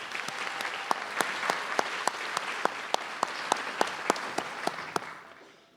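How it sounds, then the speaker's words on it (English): Audience at a 2025 Westwood Community Schools graduation ceremony applauds, a dense steady wash of clapping with distinct louder claps in a regular beat, fading out at the end. "Please join me in giving them another round of applause"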